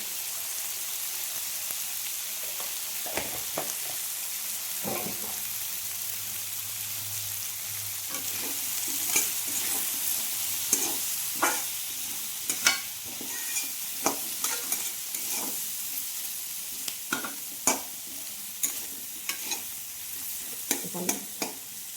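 Fish seasoned with salt and turmeric fries in a pan for an Assamese fish curry, a steady sizzle under a sharp run of spatula scrapes and clicks that grows more frequent and louder toward the end.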